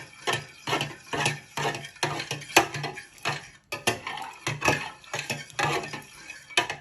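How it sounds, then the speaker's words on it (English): A spoon stirs and whacks vegetables in a pan while making pumpkin soup, with repeated clacks and scrapes in an irregular rhythm that sound close and moderately loud, with no talking. "you just want to start giving them a little bit of a stir"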